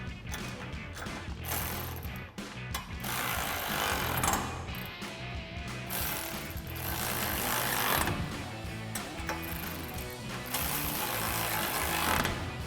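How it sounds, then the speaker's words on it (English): A hand ratchet fitted with a 16mm socket tightens the bottom bolts while a black grille guard is installed on a 2016-2023 Toyota Tacoma, giving continuous close, busy mechanical clicking and clatter with no talk. "now we're gonna tighten our bottom 3 bolts. We have our ratchet and a 16mm socket and a 16mm wrench"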